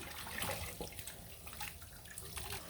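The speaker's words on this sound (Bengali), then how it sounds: "করলাগুলো অনেক সুন্দরভাবে ধুয়ে নিলাম" Bitter gourds are rinsed under running water in a kitchen sink, a soft, steady splashing and trickling close by with no voices.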